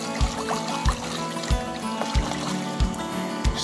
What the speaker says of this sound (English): I left the water running, so it's flowing and cleaning out the drain.